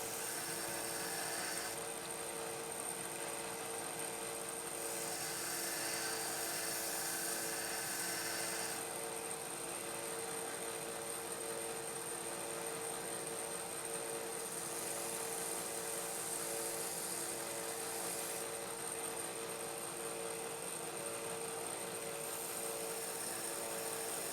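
A Dremel rotary tool with a cutoff wheel grinds into a steel knife blade. The high, steady whine holds throughout, and its pitch lifts and drops a little in a few long stretches. No one speaks.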